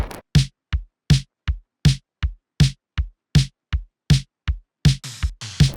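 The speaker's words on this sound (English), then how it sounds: "I'm going to add this snare cure sample just to accent our main pattern and get some extra percussion in" A dry post-punk kick and snare groove repeats steadily, then near the end an extra accent snare sample joins in with a noisier, sustained crack layered over the hits.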